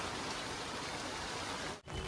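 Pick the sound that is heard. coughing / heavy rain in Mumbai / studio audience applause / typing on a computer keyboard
heavy rain in Mumbai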